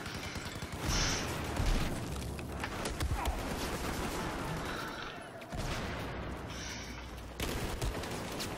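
Assault rifle gunfire in the video game Battlefield 4, a dense continuous fusillade of rapid shots with booming bursts near and far, steady and loud throughout.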